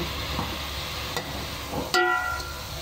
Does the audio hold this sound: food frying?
yes